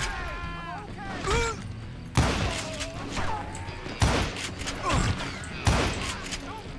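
Call of Juarez: Gunslinger Wild West shootout with several sharp gunshot cracks spaced a second or two apart, over game music and a talking voice.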